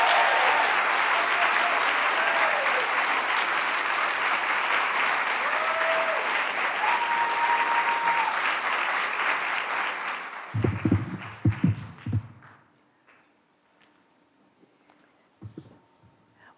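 A large audience applauds warmly to welcome Sarah Jones, a sustained loud roar of clapping with a few whoops, fading out after about ten seconds into quiet with scattered thumps and shuffling.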